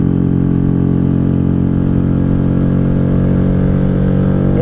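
A 1995 Honda Shadow VLX 600 V-twin motorcycle engine drones steadily and loudly while riding, a continuous close, even rumble with no speech.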